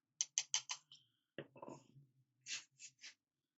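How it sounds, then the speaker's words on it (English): Small paint droplets wiped from a tabletop miniature scenery piece: a quick run of soft, dry brushing or dabbing strokes followed by scattered light rubs, faint and close, with no talking. "What you heard there was me wiping off little drops."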